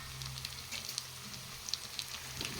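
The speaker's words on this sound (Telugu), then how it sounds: "ఇంకా కొంచెంసేపు ఫ్రై చేసుకుందాం మనం బాగా" Mutton pieces fry in a pan with a soft, continuous sizzle and scattered small pops, fairly quiet and without voices.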